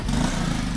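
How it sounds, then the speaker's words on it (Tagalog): A motorcycle engine runs as a steady low rumble, close and continuous through a very short moment, with no talking. "Ayun na yung motor natin doon."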